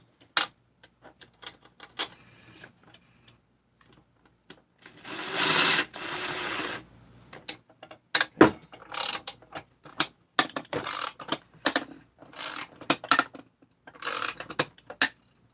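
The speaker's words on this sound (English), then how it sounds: "Put one of these screws in to help me out." Ratchet driver clicking as a screw is driven in, short bursts of sharp ratcheting clicks in irregular rhythm with pauses, close and fairly loud, one longer steady burst near the start.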